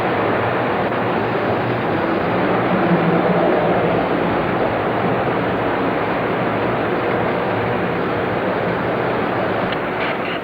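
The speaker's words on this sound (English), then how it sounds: "each main line is capable of running about 3 to 4 trains" Model trains run on a double main line layout with block signals, a steady close rumble and hiss of wheels rolling on track holding evenly throughout with no voices.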